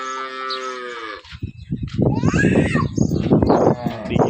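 A cow moos loudly with a long, harmonic low call at the start, then a busy stretch of voices and calf-like bleats or cries fills the rest, near and dense.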